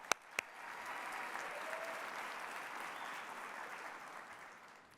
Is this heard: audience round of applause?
yes